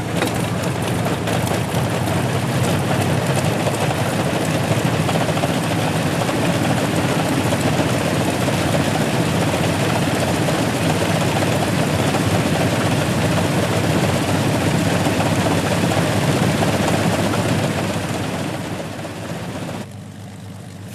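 A loud, steady vintage propeller aircraft engine drone at the Flying Legends 2006 airshow holds for most of the clip, then fades slightly near the end as the aircraft passes.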